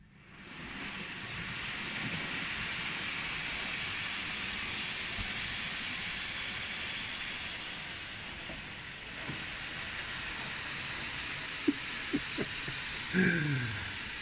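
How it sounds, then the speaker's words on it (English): An old toy train running steadily with a constant whirring hiss that holds for many seconds, followed near the end by a few sharp clicks and a brief squeal. "Oh, that cracking little train that is."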